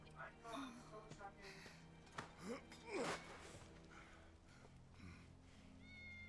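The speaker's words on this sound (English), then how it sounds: "That's Wedge's cat." A cat meows in the video game Final Fantasy VII Remake, with several short mewing calls heard under people talking over the gameplay.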